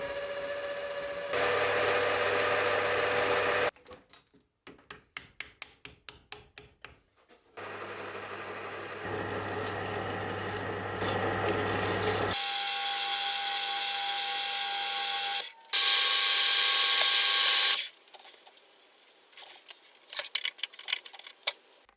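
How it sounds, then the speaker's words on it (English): A lathe in a model workshop turns down a 20mm arbor, then a clutch plate held on it is sanded: steady motor whine in long loud stretches broken by rhythmic rapid clicking and scraping passages, with no talk. "I'll turn down a 20mm arbor to be a good press fit, which I can use to tightly hold the clutch plate and then sand it"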